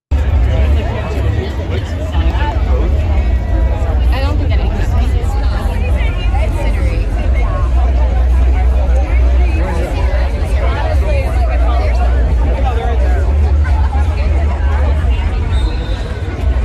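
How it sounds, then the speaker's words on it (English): A huge crowd gathers at a Kamala Harris rally before she begins, making a loud, unbroken roar of countless voices and general hubbub that fills the whole stretch. "Here was a crowd before she started."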